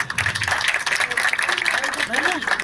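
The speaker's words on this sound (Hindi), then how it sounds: "जन्मदिन पर जोरदार तालियां होना चाहिए।" Dense, steady applause at a birthday celebration event in Noida fills the whole stretch, with a voice talking over the clapping.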